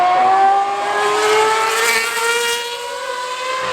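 A McLaren racing car climbs the Goodwood hillclimb at the Festival of Speed, its high engine note whining loudly and steadily, shifting slightly in pitch as it holds speed and then eases a little toward the end.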